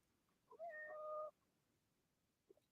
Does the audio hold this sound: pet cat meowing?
yes